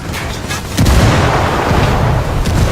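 A frag grenade goes off in Ghost Recon Wildlands, a loud close boom hitting after a short lull and then a sustained rumbling roar of debris and echo that fills the rest of the moment.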